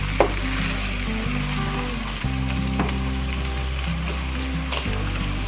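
Tomatoes added to a pan of frying onions for a desi green bean dish, a steady close sizzle with a brief stir-like clatter and continuous bubbling crackle, no talking.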